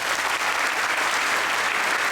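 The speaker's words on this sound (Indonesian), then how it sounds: "tepuk tangan." Loud, dense applause from a crowd at an evening gathering in Sidoarjo, steady and unbroken, filling the room from start to end.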